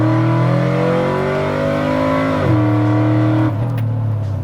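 A cammed, built 6.2 liter Chevy Avalanche truck on 24-inch wheels revs hard nearby, its loud, rumbling engine tone climbing and dipping through a sustained throttle blip before settling.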